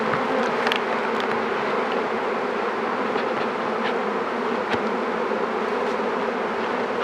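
Honeybees buzzing around an open hive during a beehive inspection, a dense, continuous drone close to the listener with individual bees flitting past, no voices.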